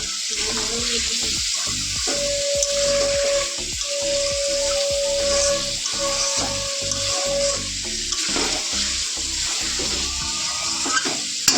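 Meat frying in hot oil sizzles steadily and close up, with stirring and scraping throughout; a brief tonal whine runs under the frying in the middle, and no one speaks.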